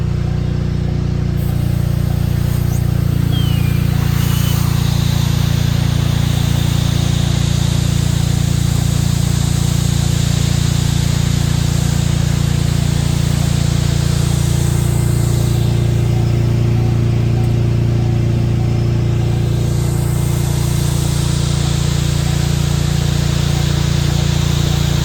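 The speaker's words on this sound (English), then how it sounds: "We're going to go ahead and run the fire pump down and shut it off." Brush fire truck fire pump running with its foam system, a loud, steady, close mechanical drone with a broad hiss of water flow, continuous and unchanging throughout; no talking.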